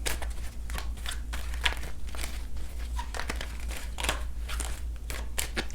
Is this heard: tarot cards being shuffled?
yes